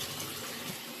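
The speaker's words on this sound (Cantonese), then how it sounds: "就係試一試嗰個去水嘅流水啦" Water runs from a tap into a drain to test its flow after plumbing work, a steady close hiss and gush lasting about a second with no voices.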